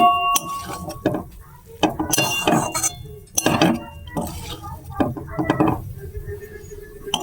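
Food is stirred in a metal pan on a gas stove as the flame is turned off, with repeated scraping clinks of a utensil against the pan in irregular bursts, close and fairly loud.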